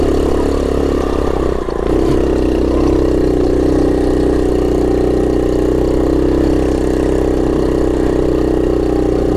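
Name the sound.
1970 Honda Trail 70 engine climbing rocky hill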